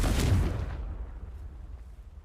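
Confringo fire spell exploding in the video game Hogwarts Legacy, a loud, deep, booming blast that fades over about a second into a low, rumbling tail, no talk.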